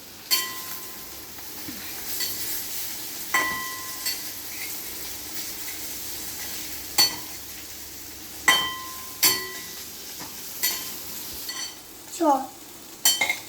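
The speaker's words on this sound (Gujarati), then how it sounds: "હવે છે ને આપણે એના તવાથી મિક્સ કરશું." A spatula mixes boiled potatoes into sabudana khichdi in a pan. Soft, quiet stirring is broken by a dozen or so sharp, irregular scrapes and clinks of metal against the pan.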